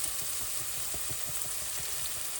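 Celery, shallots, carrots and scallions sizzle steadily in oil in a pot as mussels and fries are prepared, a close, continuous crackling hiss with small popping bursts and no talk.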